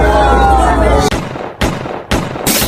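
Gunshots from a shooting in Miramar: a sustained loud blast tails off, then three sharp cracks follow about half a second apart, each fading into echoing noise, with no talk.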